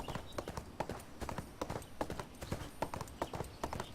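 Horse hooves in the video game ArcheAge clip-clopping at a steady, quick gallop, each hit crisp and close in a continuous rhythmic run.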